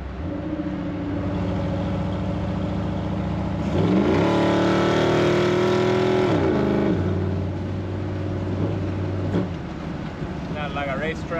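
A Ford Bronco truck engine with a sticking carburetor secondary runs steadily, then revs up in a loud rising surge around the middle before settling back to idle, close by.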